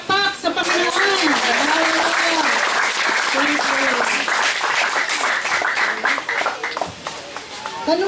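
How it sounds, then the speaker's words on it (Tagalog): A church congregation at an anniversary service breaks into loud, sustained applause and clapping, with a voice talking or singing over it much of the time. "Isang malakas na palakpak sa Panginoon."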